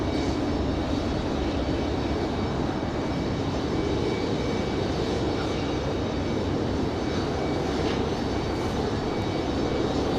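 A CRJ regional jet departs from Raleigh-Durham International, its engines sending out a sustained, loud roar that holds steady throughout, with no talking over it.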